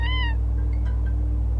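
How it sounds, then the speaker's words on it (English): A cat on a street gives a single clear meow with a falling, harmonic tone, followed by fainter mews, over a strong steady low hum. "Oh, it's the same cat."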